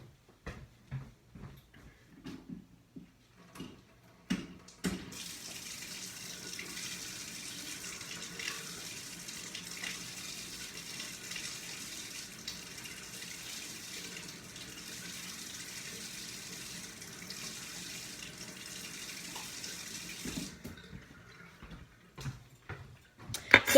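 Tap water running steadily into a container for low-carb protein tortilla batter, a continuous close hiss lasting most of the clip, preceded and followed by scattered kitchen clicks and knocks.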